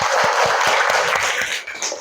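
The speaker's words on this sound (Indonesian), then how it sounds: "tepuk tangan untuk kita semua" Classroom group applause at a school lesson, a burst of many hands clapping steadily and fairly close, thinning out near the end.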